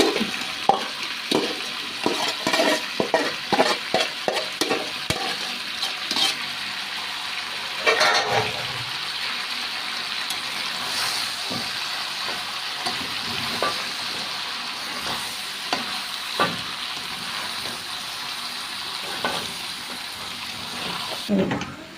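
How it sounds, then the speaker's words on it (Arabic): Stir-frying in a pan, with onion being added, gives a continuous sizzle broken by repeated scraping and clattering stirs, close by, with busier bursts early on and scattered knocks later. "اشوحها بقى تشويحة كويسة كده وارجع لها"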